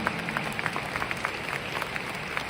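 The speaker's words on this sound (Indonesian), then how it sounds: "Kita pantas beri tepuk tangan meriah untuk Miss Claudia." Warm audience applause for Miss Claudia at a seminar, a steady rush of many hands clapping with sharper individual claps poking through, sustained for a couple of seconds and no talking over it.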